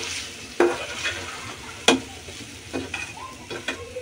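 Potato curry with coriander leaves sizzling in a pan while a spoon stirs it, soft continuous frying under several sharper scraping strokes against the pan, close up with no talking.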